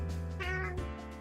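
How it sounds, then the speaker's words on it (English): A cat in the Bustafellows video game gives a single clear meow, drawn out and rising then falling, close and alone without talk. "When Mozu calls the cat Anna, it leaps into his chest."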